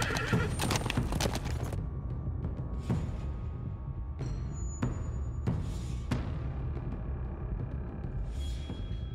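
A horse neighs and gallops in The Walking Dead video game, with a loud burst of hoofbeats and a whinny at first, then sparser clip-clops and snorts over a steady low rumble.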